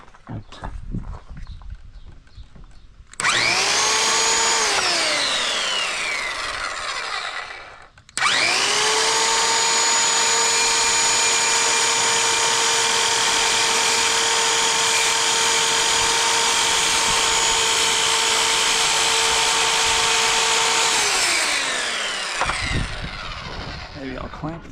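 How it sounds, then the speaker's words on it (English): A handheld skill saw cuts wood for a garden bench: two loud sustained whining runs, a short one then a long steady one of about fifteen seconds, each spinning up sharply and winding down at the end. "I could take a saw, skill saw, and just cut down this way"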